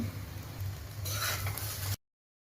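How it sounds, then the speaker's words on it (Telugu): A spoon stirs fried eggs into rice in a hot pan, a soft continuous scraping and light sizzle that thickens partway through before cutting off abruptly. "ఫైనల్గా మనం ముందుగా ఫ్రై చేసి పెట్టుకున్న ఎగ్స్ వేసుకుని కలుపుకోవాలి."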